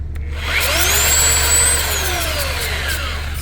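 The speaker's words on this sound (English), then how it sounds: "That's full power on that sander. And that belt needs adjustment." A belt sander with a belt needing adjustment runs at full power off a Ford Super Duty truck's onboard power outlet, a steady loud whine that rises in pitch then slowly winds down, heard alone.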